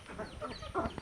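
A chicken clucking briefly outdoors near a sweet potato field, a short close burst of throaty clucks.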